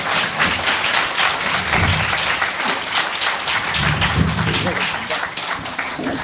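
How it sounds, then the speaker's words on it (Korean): Audience applause at a live public broadcast recording of a political talk show in Busan: sustained, dense clapping from a crowd that fills the whole stretch, with voices mixed in beneath it. "박수 다시 한번 보내주시기 바랍니다"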